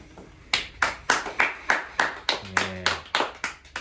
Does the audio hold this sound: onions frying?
no